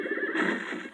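A horse lets out a single close, loud whinny lasting about a second, alone with no talk.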